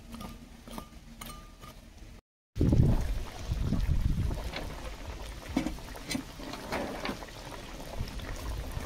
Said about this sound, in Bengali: দেখুন কেমন ফুটতে শুরু করেছে